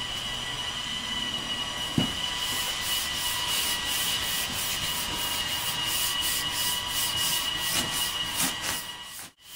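Steady, continuous rasping of dry hand sanding with a sanding block, an even back-and-forth scrubbing with a faint tonal hum underneath and a soft knock near the start.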